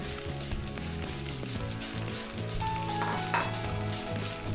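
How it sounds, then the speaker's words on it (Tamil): Long-sliced onions hit a hot pan with chana dal for a South Indian poori potato curry, giving a moderate sizzle mixed with metallic clinks of a spoon against the pan, with no speech. "அதான் வெங்காயம் நல்லா வதங்கட்டும்."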